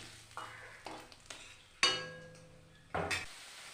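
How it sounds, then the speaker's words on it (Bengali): Amudi fish frying crisp in oil, with soft bursts of sizzle and sharp clatters of a spatula or pan as pieces are turned, several separate knocks over a few seconds, no talking. "এই একইভাবে পুরো মাছগুলোই আমি ভেজে নেব।"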